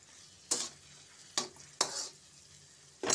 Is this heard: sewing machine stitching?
no